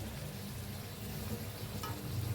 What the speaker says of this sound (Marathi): तर चला आता फ्राय करून घेऊया सगळ्या तरी